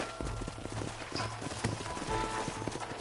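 Horses' hooves in the video game Red Dead Redemption clip-clop in a steady, rhythmic pattern of close, distinct footfalls over a low background ambience, no talk.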